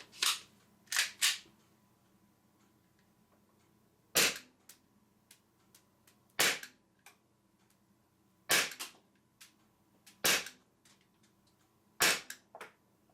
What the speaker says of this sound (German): Ich gebe 5 Schuss ab.